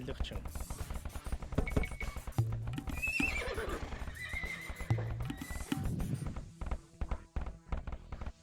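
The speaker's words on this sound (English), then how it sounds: "Let those horses come in." Horses neighing and whinnying with clip-clopping hooves in a strategy video game, several whinnies over busy battle sounds, with people talking over the gameplay throughout.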